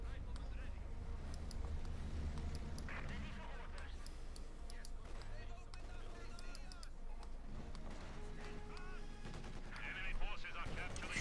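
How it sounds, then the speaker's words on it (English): Mortar blasts and machine-gun bursts from the World War II strategy game Company of Heroes 2, a dense, continuous barrage of battle noise running under steady commentary throughout. "controls being wiped out here by mortar and machine gun fire"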